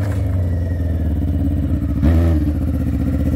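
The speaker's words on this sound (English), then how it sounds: "It just spins in every gear though, because them bald tires" An ATC600r three-wheeler on bald tires roars loudly at close range, its engine revving hard as the wheels spin, with a sharp surge and clatter partway through.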